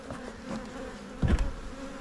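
Low, steady droning buzz of many honey bees around an open hive during an early April beehive inspection, close by with a brief louder bump partway through and no talking.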